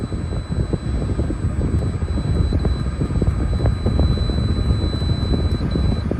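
A window air conditioner set down to 62 degrees runs with a constant, close, broadband whoosh of fan and airflow, a steady rumbling hiss with a faint high tone above it and no speech.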